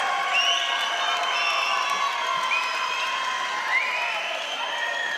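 A crowd roars and cheers continuously at an amateur fight night bout between two gym fighters, a dense, steady wall of voices with whoops and shouts rising out of it, loud and sustained throughout without pause.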